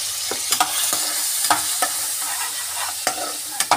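Vegetables and fresh peas frying in a pan with crushed chilli, dry mango powder and black pepper, a steady broadband sizzle punctuated by repeated sharp scrapes and clinks of stirring, close and alone.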